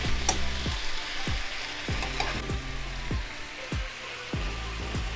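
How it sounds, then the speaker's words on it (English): Shrimp stir fry sizzles steadily in a hot pan as teriyaki sauce goes in, with regular scraping stirs giving a rhythmic series of soft thuds over the constant close frying hiss. "now I'm going to add the teriyaki sauce"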